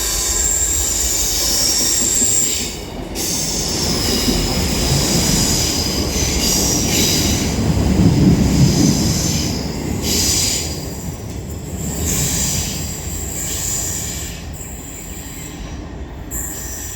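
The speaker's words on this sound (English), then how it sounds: "Now passing through is going to be an East Midlands Railway Class 158" An East Midlands Railway Class 158 diesel unit passes through Deansgate station, a loud, sustained rumble of wheels on rails with high squealing and brief clicks as the carriages roll by close to the platform.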